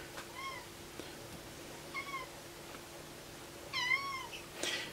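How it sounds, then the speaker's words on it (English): A cat meows several times, short separate calls with a louder one near the end, fairly faint against a quiet indoor hum, no talk. "And yes, there's another cat."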